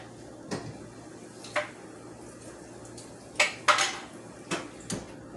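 A utensil stirs kidney beans in a cooking pot, giving several scattered metallic scrapes and clinks at close range over a quiet kitchen hum, with no talking.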